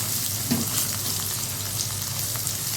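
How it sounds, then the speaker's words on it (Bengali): Eggs fry with onions and noodle spice in a pan in a home kitchen, a steady close sizzle with faint crackles and a brief scrape of stirring, no voices. "ডিমটা একটু ভাজা ভাজা করে দিই।"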